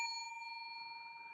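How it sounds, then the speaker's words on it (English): A single bell rings with a clear, sustained metallic tone that slowly decays, close and alone. "You will hear bell ring"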